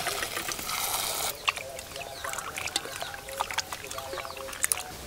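Country chicken meat being washed by hand in water: sloshing and trickling, with a soft rush of pouring at first, then scattered splashes and light clinks, close and fairly faint.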